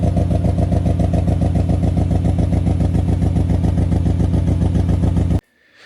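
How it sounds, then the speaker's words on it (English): A 1988 Alfa Romeo Milano engine idles roughly and choppily, with a heavy, cammed-sounding lope. The loud, close, steady pulsing runs for about five seconds and then cuts off abruptly. "a really rough idle, a little choppy, sounded like it was cammed"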